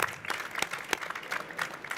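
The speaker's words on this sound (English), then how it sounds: "Good round of applause." Applause for a presentation at an eHealth venture summit, a moderate crowd clapping with loose, uneven rhythm, fairly soft and brief.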